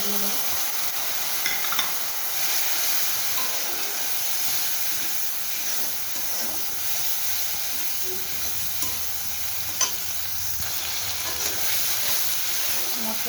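Spice paste of cumin, chili and turmeric powders mixed with water frying in a pan for a pomfret mustard curry, a steady loud sizzle and hiss with occasional stirring scrapes throughout.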